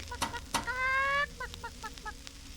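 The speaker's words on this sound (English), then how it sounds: "Is that a chicken?" A chicken clucks in a short burst of rhythmic clucks after a brief drawn-out squawk, heard close and fairly clear with no talk over it.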